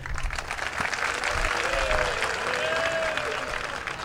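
An audience at a religious discourse claps in a burst of applause that holds steady and fairly loud, while a voice speaks faintly underneath.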